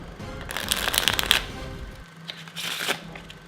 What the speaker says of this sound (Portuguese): o resto baralha-se tudo